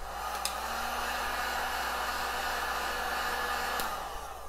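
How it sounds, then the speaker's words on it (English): A heat gun blows steadily over a resin topcoat on an acrylic pour painting, giving a constant close whooshing hum with a faint motor tone and two brief clicks. "just use the heat gun again"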